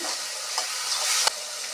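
Garlic rice being stirred with salt in a pan, a steady sizzle and hiss with a few soft scrapes of the spoon, close and continuous without talk.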